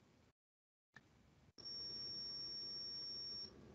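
A Wio Terminal's built-in buzzer rings as one steady, thin, high-pitched tone lasting about two seconds, fairly faint over low background hiss.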